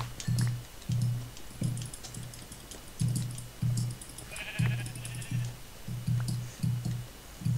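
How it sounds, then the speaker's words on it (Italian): Sheep bleating in the Minecraft video game, repeated short low bleats from several animals at close range, steady and overlapping, with faint clicking keys in the background. "Oddio, quante pecore ci sono qua."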